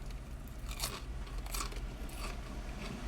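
Close, crisp crunching of a bite into Red Rooster fried chicken, followed by a few more crackly chews in the quiet.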